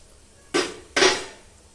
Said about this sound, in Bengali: সাঁড়াশিতে এইভাবে থেতো করে নেব